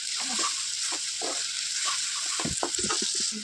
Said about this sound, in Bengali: তো সেটাকে আমরা প্রায় 10 মিনিট ধরে একটু নাড়াচাড়া করবো কড়াইতে